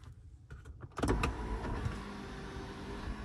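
A BMW sunroof motor running after a repair: an electric motor starts with a few clicks and then whirs steadily, close and fairly quiet, inside the car.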